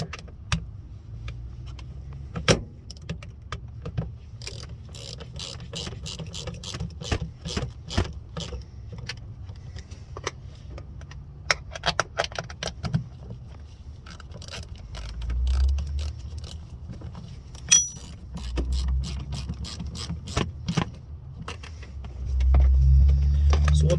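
Bolts are tightened to fix a twin stick shifter to a vehicle floor: a long run of sharp metallic clicks and ratchet-like ticks, close and irregular, over a low rumbling background.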